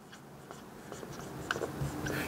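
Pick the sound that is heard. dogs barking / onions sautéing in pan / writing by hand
writing by hand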